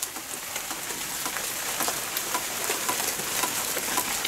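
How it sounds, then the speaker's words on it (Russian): Steady light rain patters and hisses on surfaces outdoors after a thunderstorm, an even wash of fine drops with no voices. "Это не страшный дождь,"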